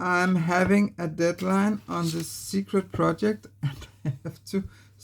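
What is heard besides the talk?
No distinct noise like a dog, phone or traffic.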